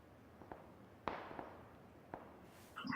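A few distant gunshots in the battle-royale game PUBG, sparse sharp cracks heard faintly and alone with no talking, set against quiet ambient background.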